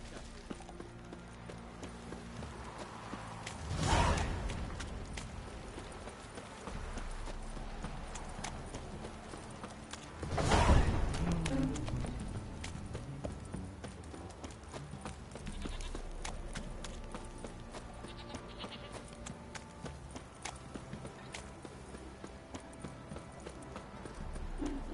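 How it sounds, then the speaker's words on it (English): Horse hooves clip-clop in The Witcher 3 video game: a steady trotting patter over ambient game sound, with two louder surges of movement and a voice faintly present. "Time to water the horses."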